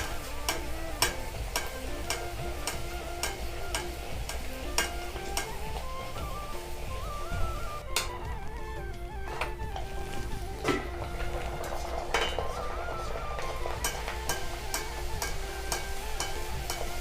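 Spinach luchi puffing in hot oil give off a steady, gentle sizzle with scattered light ticks and clinks throughout, fairly quiet and without any voices.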